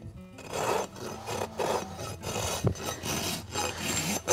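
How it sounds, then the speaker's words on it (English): A farrier's rasp is drawn across a horse hoof to take off excess growth, giving rhythmic, close, scratchy rasping strokes, about eight in a few seconds, with short pauses between them. "Letting that rasp glide across that hoof."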